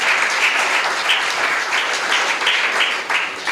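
A church congregation at a Telugu Christian sermon breaks into brisk, dense clapping, many hands beating continuously and loudly for a few seconds with no voices over it.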